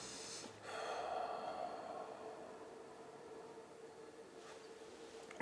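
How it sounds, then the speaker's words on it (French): A long, deep exhalation during a meditative breathing exercise, a steady breathy rush of air lasting several seconds, close to the microphone, with no talking. "je vais chercher en profondeur l'expiration jusqu'au maximum"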